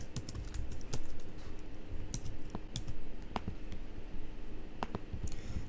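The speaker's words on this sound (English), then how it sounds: "then type the description" Close, steady typing on a computer keyboard, a dense run of light clicks and taps with occasional louder key strikes, continuing without speech.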